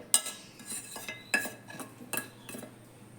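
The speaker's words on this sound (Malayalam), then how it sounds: "നമുക്ക് നന്നായിട്ടൊന്ന് ഇളക്കി കൊടുക്കാം" A spoon stirs chili, coriander and turmeric powder heating in oil in a pot, giving repeated clinks and scrapes against the metal with a soft sizzle underneath, close and moderately loud.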